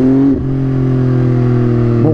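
An MV Agusta Brutale 675 motorcycle rated at 115 hp, being ridden, gives a loud, steady, close engine drone. The pitch shifts briefly near the start and again near the end, as if the revs change or the rider shifts gear.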